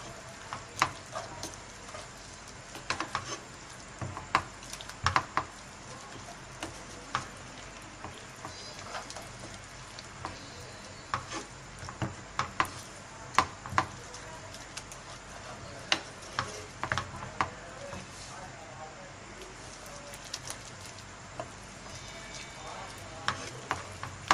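Chicken white sauce cooking in a pan, a steady low sizzle broken by frequent small sharp ticks and pops, close and fairly quiet, with no voices over it.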